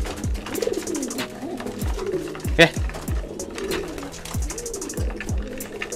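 A pigeon coos in a repeated rhythmic series of low throaty calls, close by and clear, with a brief sharper bird sound partway through and faint background activity.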